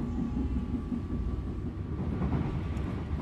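The KA Ranggajati economy train passes straight through Solo Jebres station with a low, steady rumble of wheels and cars, moderately distant and without voices.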